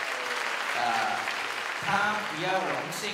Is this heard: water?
no